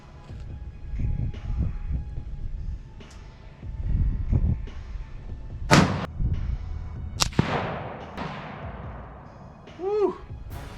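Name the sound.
rifle shot fired with a faulty primer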